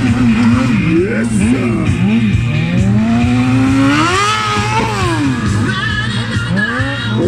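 A stunt motorcycle drifting at a biker show, with a steady loud engine drone and sweeping squeals from the sliding tire that rise and fall throughout.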